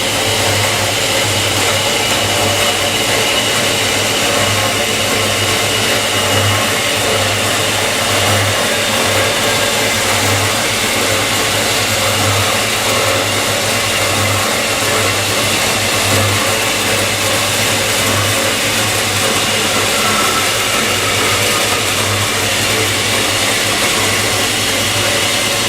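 A metal-cutting bandsaw running through metal stock makes a loud, steady whine and droning hum with a constant low buzz, unbroken and alone.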